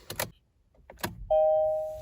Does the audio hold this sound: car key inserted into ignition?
yes